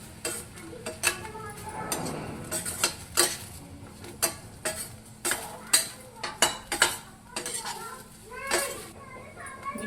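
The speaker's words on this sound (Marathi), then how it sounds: "याच्यामध्येच आपल्याला भाजून घ्यायचं आहे शेंगा आणि पीठ" Cluster beans and gram flour being roasted in a pan, with irregular scraping and clinking of a spoon against the pan in sharp bursts, a faint sizzle underneath, and voices in the background.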